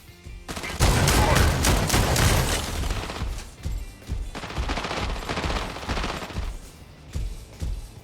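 Weapons fire in a mech combat video game, an ARIES mech armed with missile racks: a dense, loud volley of rapid shots and blasts for about two seconds, then a steady run of repeated bursts and booms.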